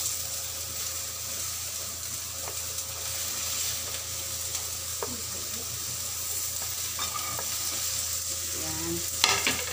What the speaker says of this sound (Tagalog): Yan, kumukulo na siya guys. Lalagay na natin ang ating malunggay.